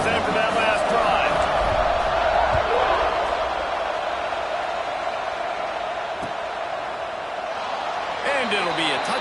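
A stadium crowd in a college football game, a steady, loud roar of cheering and noise filling the whole stretch, with a commentator's voice over it.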